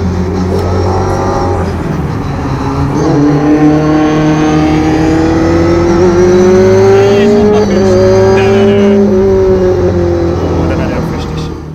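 A Mitsubishi Lancer Evo IX N4 rally car engine roars nearby on a track, revving steadily higher with a loud, continuous growl and some tire noise.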